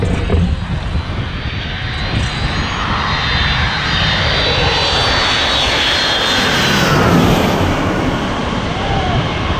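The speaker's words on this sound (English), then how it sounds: "the runway and there's a plane due in" Loud, continuous roar of an airliner's engines as it comes in low to land over the runway at St. Martin, building steadily across the whole stretch with broadband rumble and a rising whine.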